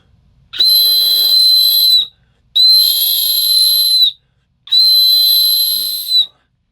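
A Kaiser titanium survival whistle gives three long, shrill blasts with short pauses between them, loud and close, each tone steady and piercing.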